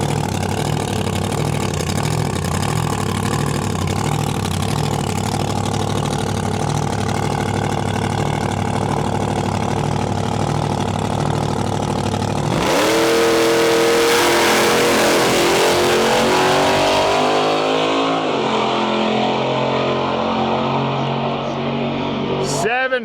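A drag racing funny car at Heads Up Havoc idles with a loud, thick rumble, then launches into a deafening full-throttle solo quarter-mile run that roars and fades, with an announcer talking over it.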